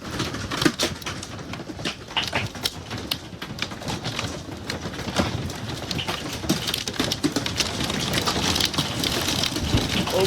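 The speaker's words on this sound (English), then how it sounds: "Look at all this hail down here right now." Hail rattles down hard during an Arizona monsoon storm, a dense, close clatter of rapid impacts that keeps building. A few faint bird coos sound through the downpour.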